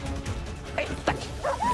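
Belgian Malinois police dog during attack training, giving a few short yips and barks spread across a couple of seconds over a noisy outdoor background.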